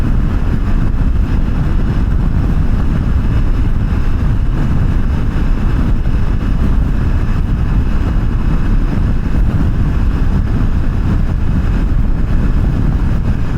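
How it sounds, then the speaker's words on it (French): Steady wind roars and buffets around a rider on a KTM 790 Adventure Rally motorcycle cruising the motorway at about 100 km/h, a constant low rumbling rush with no voices. "Et il y a du vent là aujourd'hui, je pense que vous l'entendez un peu."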